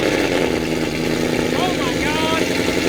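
A supercharged 2020 Shelby GT500 with a Corsa Performance 3-inch active catback exhaust and double helix X-pipe runs steadily, a loud continuous engine drone with a brief rising tone near the end.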